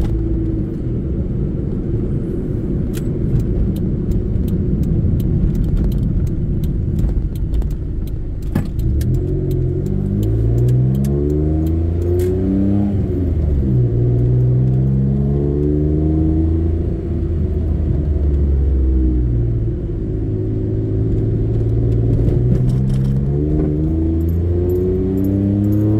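A 1995 Honda Today kei car heard from inside while driving, a loud continuous engine drone that rises in pitch, drops as gears change, and climbs again in repeated sweeps, with faint rattles over the rumble.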